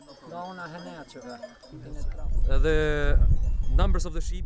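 Sheep bleating on grazing land in rural Albania, several wavering bleats in the first seconds and again midway, close and fairly loud over low outdoor rumble and faint clinking.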